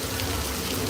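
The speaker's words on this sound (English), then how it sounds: "It's a sprinkler system" Artificial rain falling from a sprinkler system on an outdoor studio set, a dense, steady hiss of spray and droplets, close and unbroken.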